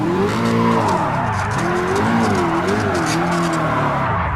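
Tires squeal and skid through a corner in GT Sport, the screech rising and bending in pitch over a loud, steady engine roar that fills the whole stretch.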